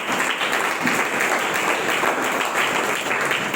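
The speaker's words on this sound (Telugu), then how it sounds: "ఒకసారి దగ్గర చప్పట్లు కొట్టండి." A church congregation at Sunday worship claps together in dense, steady applause that fills the whole short stretch at even loudness, with no other sound standing out.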